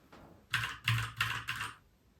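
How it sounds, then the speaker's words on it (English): Four crisp, close clicks of a Keychron computer keyboard in a quiet room at night, evenly spaced and isolated against near silence. "the click of my keyboard. That's all you hear, nothing else"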